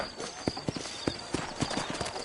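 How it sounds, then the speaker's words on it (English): Horses' hooves clip-clop at a walking pace in the Western video game Red Dead Redemption, an uneven run of sharp hoof strikes on hard ground against steady background ambience. "You ain't gonna find sturdier horses than these in all of New Austin."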